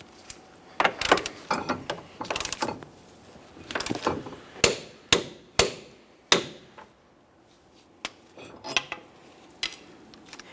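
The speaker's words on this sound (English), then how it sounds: "We can continue on torquing." A hand ratchet clicks in quick bursts while torquing the rear axle nut on a 2007-2017 Jeep Patriot 2.4L, with sharp metallic clacks and irregular pauses between strokes, close and clear.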